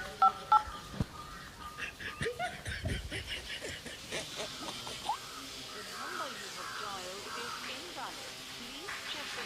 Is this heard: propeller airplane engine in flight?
no